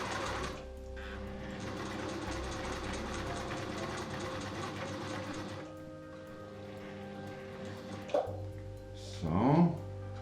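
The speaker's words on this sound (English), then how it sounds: "I'm going to sew all the way around here." A sewing machine stitches a fabric face mask, steady rapid whirring for several seconds at moderate volume, then stopping, with a brief voice near the end.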